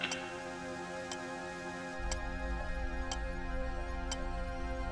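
A clock ticks steadily about once per second, faint and close, over a constant low hum with no voices.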